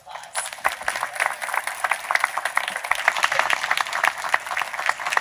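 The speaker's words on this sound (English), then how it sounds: "Please give them a round of applause" Sustained audience applause at a Port of Seattle presidential inauguration ceremony; many hands clap steadily and fairly close for the whole stretch, a dense unbroken patter with no voices on top.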